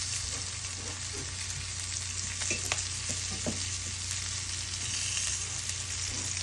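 Salmon sizzles steadily on an outdoor grill, a continuous close frying hiss with a low hum underneath and a few brief ticks and pops, no talking.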